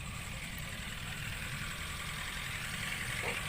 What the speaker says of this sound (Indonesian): di sini mesin udah hidup ya